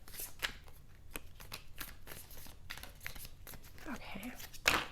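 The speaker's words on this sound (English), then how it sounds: "I'm going to give this just one more shuffle here." Rapid papery flicks of tarot cards being shuffled, a run of short riffling bursts with a louder snap near the end, quiet and close.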